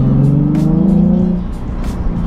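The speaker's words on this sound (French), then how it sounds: "le bruit du V6 Atmo de la 350Z" A Nissan 350Z's naturally aspirated V6 revs up close by with a loud, buzzy, rising engine note, then drops back as the revs fall, followed by a rougher, fluttering idle.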